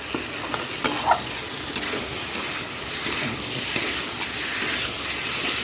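White potatoes sauté in a hot pan as they are stirred, giving a steady bright sizzle with scrapes and small pops from the stirring, loud and close, with no voices.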